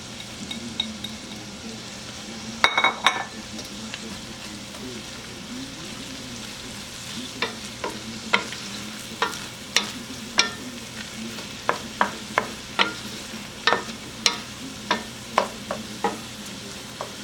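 Chopped scallion cooks in a pan with a steady, close sizzle while a utensil stirs it, giving sharp clicks and scrapes that grow more frequent and rhythmic toward the end, with no talking.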